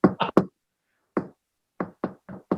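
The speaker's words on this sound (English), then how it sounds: "We had a secret knock." A secret knock on a door: a quick pattern of three close knocks, then a pause, a single knock, another pause, and a final run of four evenly spaced knocks, crisp and near with silence between.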